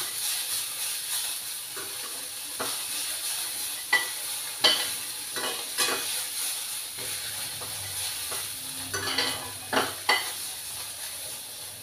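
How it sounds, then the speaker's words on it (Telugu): Coriander leaves and peanuts frying in a pan for a tomato coriander chutney, with a steady sizzle broken by scraping stirs and clatters from the spatula, close and with no voices. "ఒక 2 నిమిషాలు వేయించుకోవాలి కొత్తిమీర వేసిన తర్వాత."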